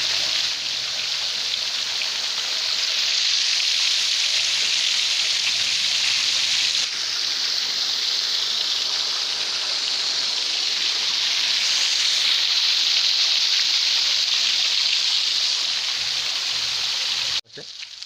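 Artificial rain shower from an overhead sprinkler spraying water onto a fish pond on a fish farm in Assam, a steady, loud hiss of falling water that runs unbroken for nearly the whole span before cutting off abruptly near the end.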